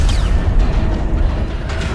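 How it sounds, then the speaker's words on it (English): A deep, rumbling explosion aboard a Cabal-held ship in a Destiny cutscene, a sustained heavy low boom rolling on for a couple of seconds, loud and close with no talk over it. "That explosion came from the propulsion deck."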